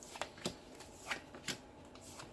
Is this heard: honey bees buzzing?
no